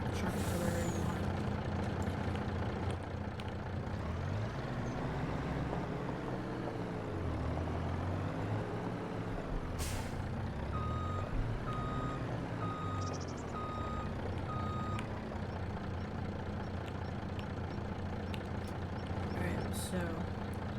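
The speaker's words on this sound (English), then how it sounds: "I'll just back the truck up to where you want it." A truck in Farming Simulator 25 backs up, its reversing alarm beeping steadily over a droning engine, with a hiss of air brakes. A person talks over it throughout.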